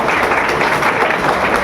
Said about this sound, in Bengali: সাইদুল স্যার এসেছেন, একটু জোরে একটু হাততালি দেবেন।